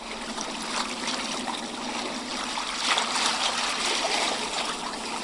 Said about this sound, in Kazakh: Судың толқыны құмды жағаға соғып жатыр.